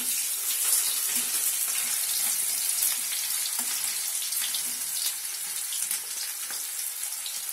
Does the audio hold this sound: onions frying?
yes